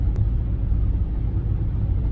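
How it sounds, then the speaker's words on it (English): A steady low rumble of road traffic heard from inside a vehicle in Great Yarmouth, continuous and close, with no talking. "back in traffic once again"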